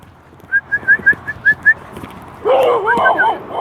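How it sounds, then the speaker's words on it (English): An indoor dog, out on a cold morning walk, gives a quick series of seven or so short high whimpering yips, then a louder burst of whining cries, close by with no talk over it. "See the doggy?"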